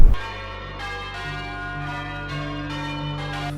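Church bells ring out in a steady sequence of resonant strikes, each tone sustaining and blending into the next, loud and close with no voices.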